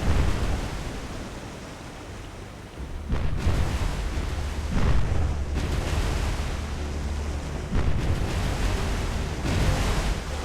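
USS Wichita's naval guns firing in War on the Sea, heard as several loud, booming broadband blasts spaced a second or two apart over a steady roar of sea and wind, with no voices.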